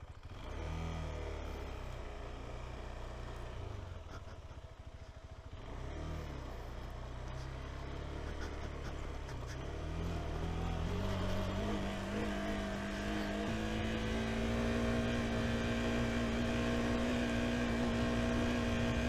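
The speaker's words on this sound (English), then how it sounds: "Let's go back and hit the road." A KTM 390 Adventure motorcycle riding on the road, its engine droning steadily and loudly throughout, with the pitch climbing and settling as it works through the gears.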